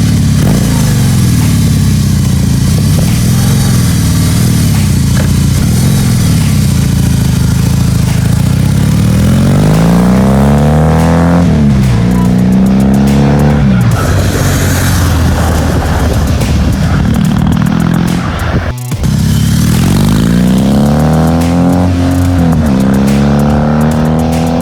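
A BMW R18 motorcycle engine runs loud and close throughout on a test ride, rising and falling with gear changes and revving, with one brief cutout near the end before it picks up again.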